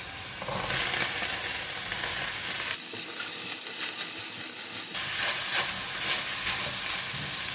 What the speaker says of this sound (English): going to fry the fish ball first until it's cooked. Now we put in the sawi stem.